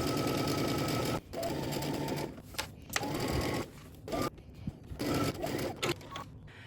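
Sewing machine stitching the side seam of a Simplicity S9946 dress at a 5/8 inch seam allowance, running in several loud, steady bursts separated by short pauses and handling noises.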